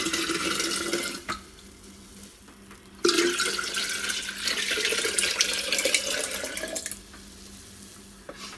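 Water pours steadily into a 3-litre jar for making kombucha in two long runs, splashing and gurgling close by, with short pauses and small knocks between.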